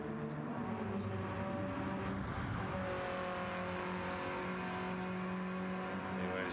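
A 1960s retromod race car in Gran Turismo 7 drives at speed, its engine droning steadily with layered harmonics and shifting pitch throughout, loud and continuous with no talk over it.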